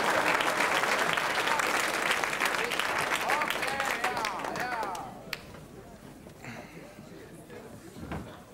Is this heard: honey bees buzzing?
no